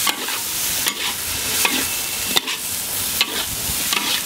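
Pork belly stir-fried with onion and soy sauce gives a close, steady sizzle, with sharp spatula scrapes and stirring strokes about every second and no talk.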